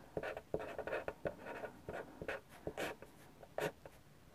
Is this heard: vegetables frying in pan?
no